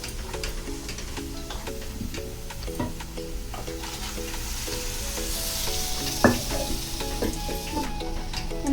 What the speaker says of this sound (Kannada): ಸ್ವಲ್ಪ ಫ್ರೈ ಆದಮೇಲೆ ಇದು ಕಡಲೆ ಮತ್ತು ಸುವರ್ಣಗಡ್ಡೆ ಬೇಯಿಸಿದ್ದೀರಲ್ಲ ಅದು ಹಾಕ್ಕೊಂಡು ಬಿಡಬೇಕು.